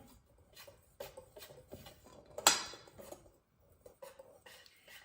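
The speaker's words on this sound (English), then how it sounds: "I'm gonna go ahead and whisk this up again" A whisk scrapes and clinks against a bowl while cocoa powder is mixed into cookie batter, a rhythmic run of soft close taps and strokes with one sharper knock midway.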